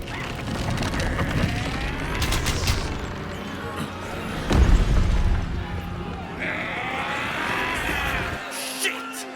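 Cannon fire in the Baldur's Gate video game during a goblin raid on a gate, a heavy boom amid dense battle noise, crashes and shouting voices.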